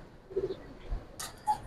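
Silver gribaz pigeons give soft, faint coos close by, a brief low murmur with a couple of quick flutters or rustles.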